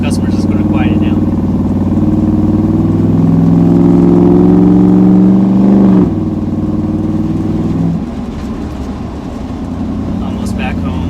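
A vehicle with a Gen V L83 engine swap and loud muffler exhaust drives along with a steady, droning rumble that rises in pitch, drops at about six seconds, and then settles lower.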